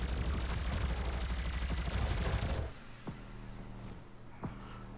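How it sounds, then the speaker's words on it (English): Rapid, steady gunfire from a weak gun in DOOM rattles loudly for about two and a half seconds, then stops, leaving a low hum and a couple of brief clanks. "that piddly gun seems really weak now"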